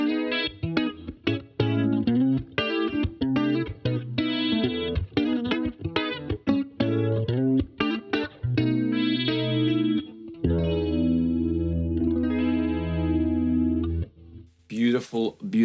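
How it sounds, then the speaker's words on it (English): Guitar chords and single notes run through a Brigade chorus pedal, giving a lush, shimmering, wavering tone with some grit, strummed and picked in short phrases before sustained ringing chords fade out. "Beautiful, beautiful, lush chorus sounds."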